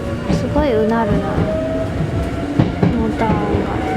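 A Hankyu Railway 6000 series train on the Minoo Line between Ishibashi and Minoo, its traction motors whining and shifting pitch as it runs, with steady rumble and clatter throughout and some voices in the background.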